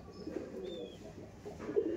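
A female Chini Kaldom pigeon gives soft, low coos close by, in a few short murmuring phrases over faint background noise.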